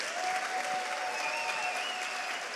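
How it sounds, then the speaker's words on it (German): Sustained applause from the audience at an award ceremony for the Goldener Aluhut and FACTS HEROES Award, dense and steady clapping filling the hall without pause, fairly loud and even throughout. "Das ist euer Applaus."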